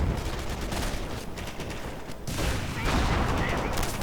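Grenadiers fire an LMG in Company of Heroes: sustained rattling bursts of gunfire over a cluttered battlefield din, steady and loud for several seconds.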